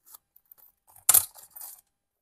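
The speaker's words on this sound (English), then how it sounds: "Then I have this little coin purse. That's also a keychain." A small coin purse on a keychain holding cards and cash is handled, giving light rustles and one sharp jingling clink of metal near the middle, close and alone.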